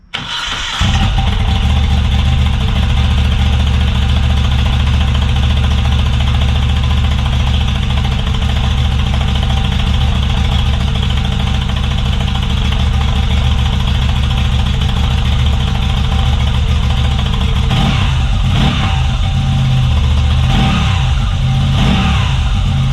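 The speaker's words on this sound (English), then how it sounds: "that's the Zard titanium slip-on silencer fitted to the Moto Guzzi V85 TT" A Moto Guzzi V85 TT fitted with a Zard titanium slip-on silencer starts up and settles into a steady, loud, throbbing cold idle in a garage, with a couple of brief blips near the end.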